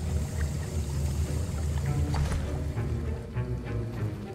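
Liquid stirred in a cauldron while brewing a potion in the Hogwarts Legacy video game: a continuous watery swirling and sloshing with soft clinks, steady and fairly close throughout.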